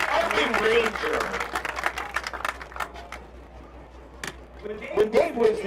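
Spectators at a high school football game clap, loud at first, then thinning to scattered claps before swelling again, with crowd voices underneath.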